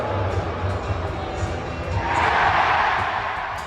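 A hockey arena crowd at a Detroit Red Wings game cheers and jeers, a broad roar that swells louder midway and then eases slightly, heard from within the stands.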